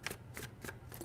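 Tarot cards are shuffled close up in quick, crisp riffles, three or four papery bursts in a steady rhythm, soft and intimate with no talking.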